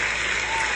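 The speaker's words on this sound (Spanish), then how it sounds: "ahora sí el aplauso, el señor Matías" A television talk show audience applauds a guest in a short, dense burst of clapping that fills the whole moment.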